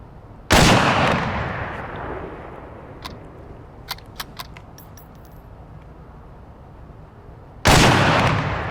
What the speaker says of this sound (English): Let's take a few shots downrange.